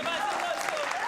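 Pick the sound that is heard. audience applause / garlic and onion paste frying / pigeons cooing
audience applause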